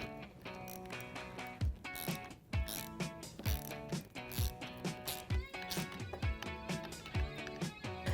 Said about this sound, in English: Tighten that back up with that 14mm socket.